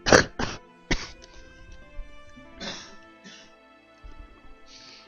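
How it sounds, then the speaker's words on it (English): A person coughs in a fit of several harsh bursts, close to the microphone, followed by throat clearing and short trailing coughs, with no talk. "I was thrown into a coughing fit"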